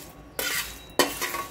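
Coriander seeds roasting on high heat in a pan get two quick stirring scrapes, a dry rustling rattle with a soft sizzle between strokes.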